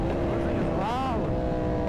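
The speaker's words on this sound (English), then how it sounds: "Bro, those bikes sound so good!" Motorbikes passing by close and loud, a strong engine roar with a rising then falling pitch sweep as one goes past, under a continuous rumble.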